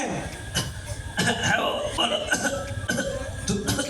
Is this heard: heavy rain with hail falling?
no